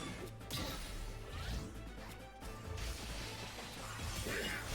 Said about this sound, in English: Oh, we're just immediately weak point smashing.